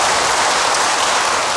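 Congregation in a church service applauding together, a dense, steady wash of clapping close by and loud throughout, with no speech over it.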